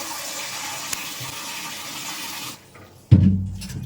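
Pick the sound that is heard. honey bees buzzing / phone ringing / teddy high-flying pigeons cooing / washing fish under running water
washing fish under running water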